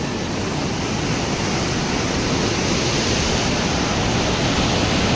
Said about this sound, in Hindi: ये है भाई मंदाकिनी नदी।